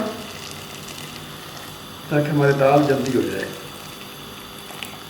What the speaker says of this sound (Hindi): इसके अंदर हम डाल देंगे ये कम से कम आधा जग पानी का ये डाल देंगे।